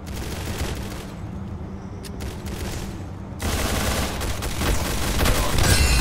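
Rapid gunfire in the Roblox game Arsenal, with dense bursts of automatic shots that grow louder and more intense halfway through.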